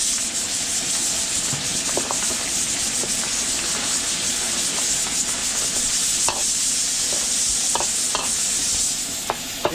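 Garlic and onion sautéing in a pan in a catering kitchen: loud, steady sizzle with occasional sharp scraping clicks of stirring, no voices.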